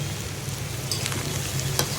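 Bitter gourd (ucche) bhaji sizzling steadily in a pan with chopped coriander leaves, a close, even frying hiss with a couple of brief scraping stirs.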